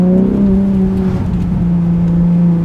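A Ferrari SP2 Monza's V12 engine drones loud and close on snowy mountain roads, a smooth sustained tone that dips and shifts pitch as it revs, with no talking.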